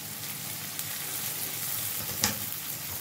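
Egg omelette curry stirred in a hot pan gives a steady close sizzle and frying hiss, with a single sharper scrape of the spoon near the end and no voices.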